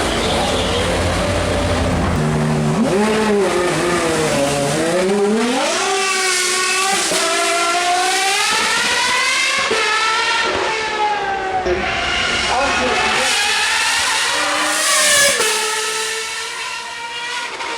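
Pagani Huayra R V12 engine at Goodwood Festival of Speed, loud and close, repeatedly revving up and down with rising and falling tones, one sustained high-pitched run after another.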